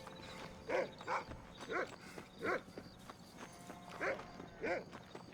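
A dog in the Red Dead Redemption game barks in a run of sharp, evenly spaced barks, fairly close, over a faint background of hoofbeats and outdoor ambience.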